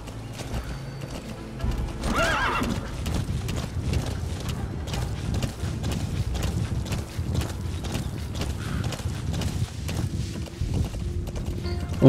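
Horse hooves clip-clop steadily in a Metal Gear video game, a continuous rhythmic trot of close, loud hoofbeats running throughout, with a brief whinny near the start and some mechanical clicking underneath.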